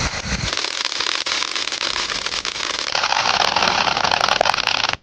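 A firecracker from a Sivakasi fireworks shop fizzes and crackles continuously for five seconds, a dense, loud, unbroken hiss of sparks with no talk over it.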